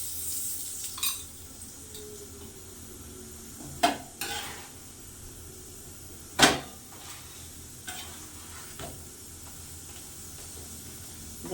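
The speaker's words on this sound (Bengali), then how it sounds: "এই যে অল্প করে তেলে ভেজে নেব" Cauliflower paratha fries in a little oil on a gas-heated pan with a soft continuous sizzle, broken by occasional sharper spatters and clinks of a utensil against the pan.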